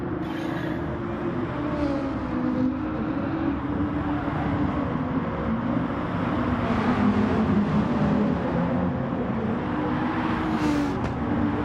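A Gran Turismo Gr3 race car at Suzuka drones steadily at high revs, a continuous close engine note that rises and falls slightly, with no talk over it.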